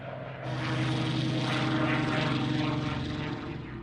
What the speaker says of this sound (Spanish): su impresionante avión, el Spitfire, con motor Rolls-Royce, uno de los mejores aviones de combate del mundo